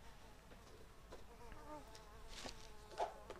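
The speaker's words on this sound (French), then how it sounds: "Ça doit être encore la plante mouche." Flies buzzing around the fly plant in The Sims 4, a steady insect drone with wavering tones that swells near the end, with no voices.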